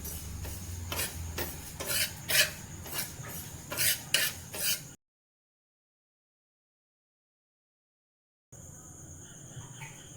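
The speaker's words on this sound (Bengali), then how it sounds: "সাদা তিল ব্রাউন কালার করে ভেজে নেবেন।" White sesame seeds being dry-roasted in a pan, stirred with a utensil that scrapes and rattles in repeated rough strokes, loud for the first few seconds, then a silent gap before faint scraping resumes.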